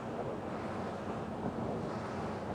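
MV Marine MITO 45 motor boat with a twin-step hull planing across open water, a continuous broadband rush of water and wind with no voices.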